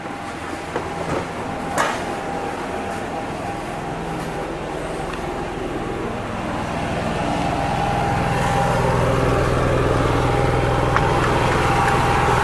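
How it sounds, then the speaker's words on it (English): Jayco Precept 34G RV generator running outdoors, a steady low hum and drone that grows slightly louder and fuller over time, with a few faint clicks and thumps on top, no talking. "There's your own generator working nicely."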